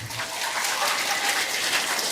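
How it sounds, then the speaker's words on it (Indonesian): Dense applause for Wanayasa from a Muhammadiyah religious gathering audience, a steady wash of many hands clapping together, with no talking. "Maka tepuk tangan untuk Wanayasa."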